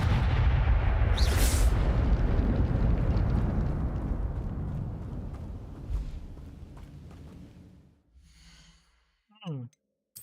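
Incendio fire spell cast in the video game Hogwarts Legacy, a loud roaring whoosh of flame that fades over several seconds, followed by short magical bursts near the end.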